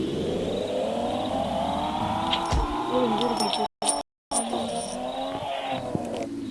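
Engine of a car in a Minecraft-style block game rising and fading as it drives away, a smooth revving tone with brief dropouts, while a young voice talks over it.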